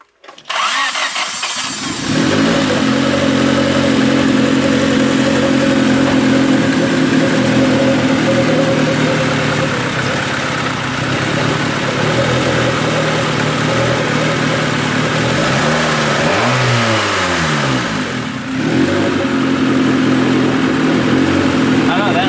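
A turbocharged Honda Civic engine cranks and catches, then settles into a loud, steady idle with a couple of rising and falling revs later on, up close, while people talk over it.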